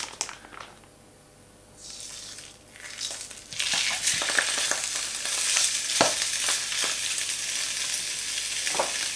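Chorizo, left whole, hits a little hot olive oil in a wok for paella and sizzles loudly and steadily, with close crackling and occasional stirring scrapes, after a brief quieter stretch.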